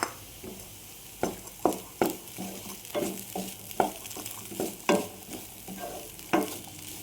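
Grated coconut is stirred into a frying Chinese potato (koorka) stir-fry, with repeated rhythmic scrapes and clatters of a spoon against the pan over a soft, steady sizzle, close and moderately quiet.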